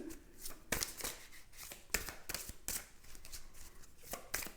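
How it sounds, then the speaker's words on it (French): Tarot and oracle cards being shuffled and drawn by hand, a close, quiet series of crisp riffling snaps at an irregular rhythm with no talk. "Je vais tirer plus qu'une carte, en fait."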